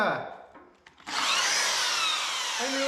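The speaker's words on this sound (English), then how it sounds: "you only got 1 more hole to drill" A cheap hammer drill whirs, pauses briefly, then bores loudly and steadily into a concrete garage floor, its pitch shifting slightly as it cuts, close up.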